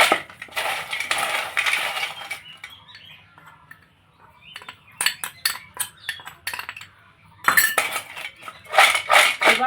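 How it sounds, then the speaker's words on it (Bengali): Crunchy fried rice snack, a homemade tomato-flavoured Mad Angles style treat, tossed with spice mix in a bowl. Close, dry rattling crunch comes in busy bursts, pauses briefly in the middle, then returns in sharp clustered shakes. "আওয়াজ শুনেই আশা করি বুঝতে পারছেন কতটা কুরকুরে হয়েছে ক্রাঞ্চি ভাত।"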